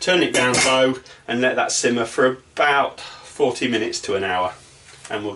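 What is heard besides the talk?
No distinct noise like a dog, phone or traffic.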